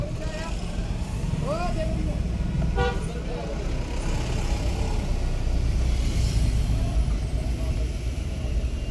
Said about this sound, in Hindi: पहाड़ों में लग गया ट्रैफिक